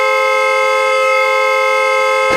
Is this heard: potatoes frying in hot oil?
no